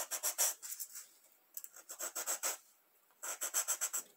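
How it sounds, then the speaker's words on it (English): Hand sanding of wooden Star Wars prop crates, with the edges rubbed at an angle, in close, crisp rasping strokes grouped in quick bursts of five to eight with short pauses between. "Give them a little bit of a sanding."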